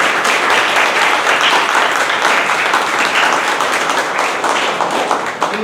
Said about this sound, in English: Can we clap all once again?